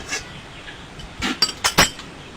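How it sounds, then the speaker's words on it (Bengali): A metal kadai is set down on a kitchen stove before cooking a country chicken curry, giving a few short, sharp metallic clinks and clanks against a quiet background. "কড়াইটা বসিয়ে দিলাম"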